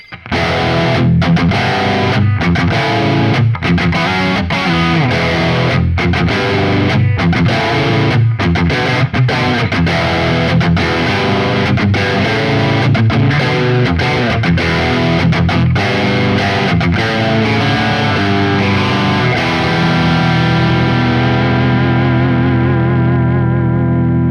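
Loud, heavily distorted electric guitar through a humbucker pickup on a Fender Ultra Luxe Vintage 60s HSS Stratocaster plays thick chords and riffs with a full, saturated tone, ringing out and fading at the close.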